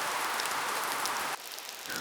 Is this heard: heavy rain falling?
yes